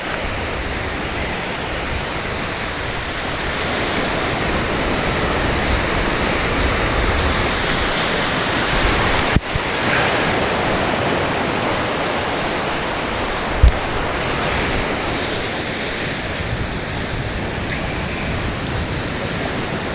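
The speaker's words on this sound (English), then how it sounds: "Just got a little bit of a swell rolling this morning" A morning swell rolls onto a northern surfcasting beach, giving a steady, broad roar of surf that stays loud and even throughout, with one or two brief knocks and no voices.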